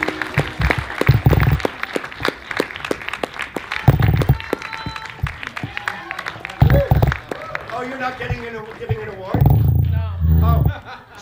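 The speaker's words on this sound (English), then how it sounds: "Clap for him!" An audience claps in bursts at an awards ceremony in a theatre, sharp claps and hubbub rising and falling beneath someone talking loudly, with a fuller swell of applause toward the end.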